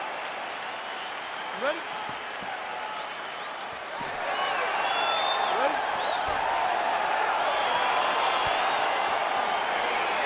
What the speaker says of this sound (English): It's my crowd getting excited as this fight gets underway